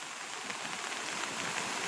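Heavy village rain hisses steadily around an umbrella, whose seams leak fine drips, making a dense, even wash of patter with no pauses.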